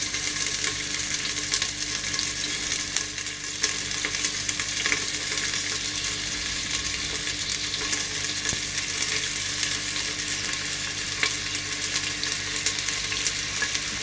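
Onions fry in about one and a half cups of hot oil for a mutton and potato curry, giving a loud, steady, close sizzle that runs unbroken throughout.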